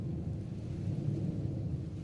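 A low, continuous thunder rumble rolls through a thunderstorm, soft and distant, with a faint hiss of rain and no voices.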